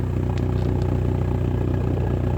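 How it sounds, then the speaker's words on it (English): A sports car, a Mitsubishi Evo 6, idles close by through its exhaust with a low throaty burble, continuous and even throughout, with a faint rattle on top. "Come round to the back now to show you the exhaust"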